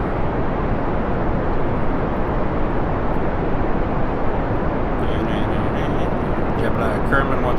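Rocket launch in Kerbal Space Program, a dense, loud roaring rumble sustained throughout with a steady broadband blast, and a voice talking over it.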